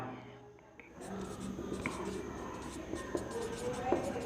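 Scratchy strokes of writing on a board during a physics lecture on current electricity, a continuous close scraping that starts after a second of near silence and runs steadily with small taps.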